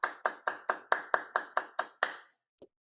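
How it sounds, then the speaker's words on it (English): A single clap sequence after a lecture: nine crisp, evenly spaced claps close by, each decaying quickly, then a pause and one faint short tap. "I want to give a huge round of applause to everyone who wants to show it"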